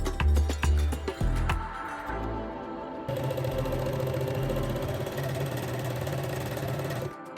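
A sewing machine stitches a 1 cm seam joining a facing to the bottom edge of wide-leg pants, running in a steady mechanical whir after a few handling knocks and clatters at the start.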